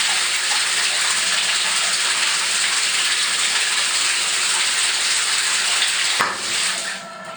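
Dishes are washed in a bathtub under a steady, loud gush of running tap water that continues without a break. Near the end there is a brief knock and the flow becomes quieter.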